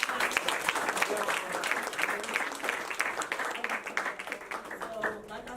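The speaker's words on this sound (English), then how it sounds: "so clap that up one more time." Audience applause in a group gathering, a dense steady wash of many hands clapping close by for several seconds, with voices talking faintly underneath and the clapping thinning slightly toward the end.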